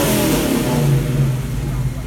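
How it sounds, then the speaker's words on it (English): A Ford Mustang engine gives a big, close rev that rises in pitch, then carries on droning as the car pulls away at an outdoor car show at a castle. "Big rev, and off you go."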